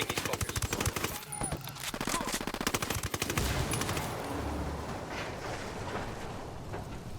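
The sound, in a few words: gunfire in video game Ghost Recon Wildlands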